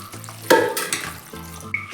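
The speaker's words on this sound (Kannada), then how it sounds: "ನೀರು ಹಾಕಬೇಕು" Water is poured into a mixer jar holding a spice mixture of garlic and coconut for a Mangalore-style fish curry: a short close splash and slosh, then quieter trickling.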